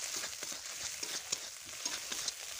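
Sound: spices with turmeric and tomato frying in a pan

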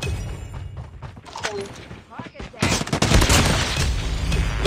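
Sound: gunfire in COD Mobile video game

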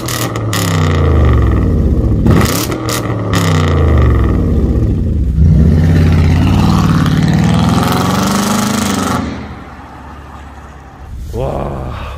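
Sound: Kia K9 V8 5000cc car engine revving, exhaust sound

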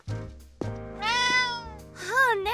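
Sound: cat meowing in Bustafellows video game

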